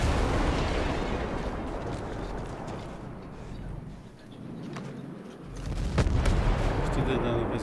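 In the video game Ghost Recon Breakpoint, a Behemoth vehicle fires at the player, heard as a loud, dense rumble of gunfire and blasts with booming low-end, under people talking.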